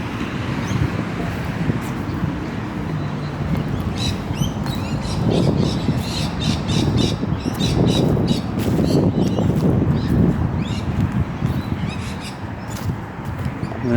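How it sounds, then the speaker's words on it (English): Small birds chirp outdoors by a river, scattered high tweets repeating throughout over a steady bed of road traffic and wind noise. "As you can hear the birds"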